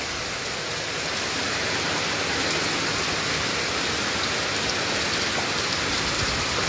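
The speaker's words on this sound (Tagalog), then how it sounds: "Lakas ng ulan guys." Heavy rain pours down steadily on Flora Drive, a dense, even hiss that fills the scene without a break, with no voices over it.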